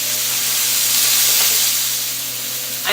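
Brussels sprouts hit hot bacon fat in a skillet with a loud, steady sizzle and hiss that holds for a few seconds, close and alone.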